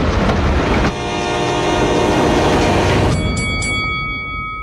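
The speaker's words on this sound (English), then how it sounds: "See tracks, think train." A train rolls along railroad tracks, loud and close, with a steady rumble and clatter, then a sustained horn blast sounds near the end and holds out to the finish.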